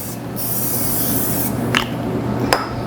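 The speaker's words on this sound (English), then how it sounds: "pan spray original. It just so it doesn't stick when you're baking" Cooking spray hisses from a can into a baking pan for a zucchini sformato, a close, steady spray with a couple of brief sharper bursts near the end.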